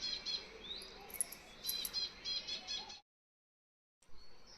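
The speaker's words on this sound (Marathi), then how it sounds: "चिवचिवाहट चालू झालेला आहे" Sparrows chirp in the trees on a cool morning, a faint cluster of quick high tweets over soft ambience, briefly cutting to silence before resuming.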